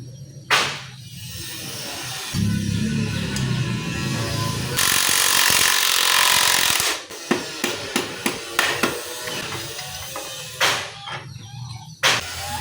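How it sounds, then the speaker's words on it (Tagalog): A hand tool works the exhaust nut on a Honda TMX 155 motorcycle engine during an overhaul. Loud metallic knocks and scraping come first, then a run of sharp, quick ratcheting clicks close by. "Next natin tatanggalin yung kanyang nut dito. Exhaust nut."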